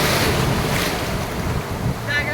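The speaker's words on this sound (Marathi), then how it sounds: "अजून एक लाट आली." Sea waves breaking close by on the shore, a continuous loud rushing wash buffeted by wind noise on the microphone, with no pause in the surf.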